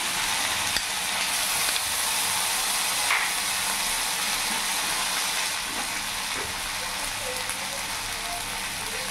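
Ginger, garlic and chili paste frying with onions in a pan for a sorputi fish curry gives a dense, even, hissing sizzle that stays steady throughout, close by with a few faint clicks and no speech.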